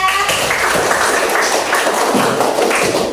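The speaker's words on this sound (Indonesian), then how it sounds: "tepuk tangan untuk kelompok 3" A class claps for a student group after its presentation in an Islamic religious education lesson, producing dense, steady, fairly close applause that fills the whole stretch with no speech.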